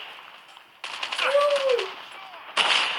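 Gunfire in Call of Duty, rapid automatic bursts with sharp crackling reports in two loud clusters, mixed with game sound effects, while people talk over it.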